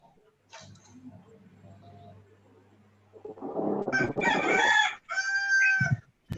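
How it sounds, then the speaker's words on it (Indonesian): A rooster crows loudly and nearby in a drawn-out call, following quieter clucking and faint background murmurs. "Siapa punya ayam itu?"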